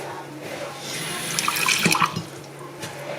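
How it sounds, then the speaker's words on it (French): Water runs from a tap into a drinking glass during Christmas baking, a steady filling trickle with a brief louder splash partway through, close by and alone. "Tu peux me prendre un verre, tu me mets un peu d'eau dedans."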